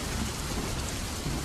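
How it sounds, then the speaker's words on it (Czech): Steady, dense rain hissing loudly and evenly, with a low rumbling undertone, continuous throughout with no voices. "Pršelo."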